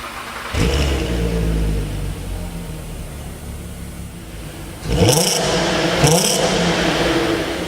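A Volkswagen R32 4MOTION 3.2-litre six-cylinder engine revs up sharply, settles into a rough idle, then revs hard again twice, loud and close, with a throaty mid-range growl.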